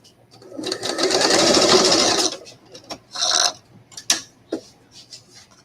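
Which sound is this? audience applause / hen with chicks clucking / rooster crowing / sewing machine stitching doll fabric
sewing machine stitching doll fabric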